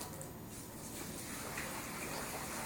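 Water gushes steadily into the tank of a Rug Doctor X-3 carpet cleaner, a continuous close, fairly loud rushing fill with no pauses.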